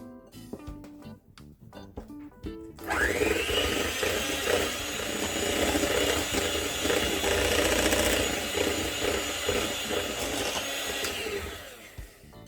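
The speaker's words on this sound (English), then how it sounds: "When it's no longer possible to use the mixer, I'm going to stop" An electric mixer whirs steadily through peach cookie batter for about ten seconds, preceded by a few clinks and knocks, its loud, even motor drone ending abruptly.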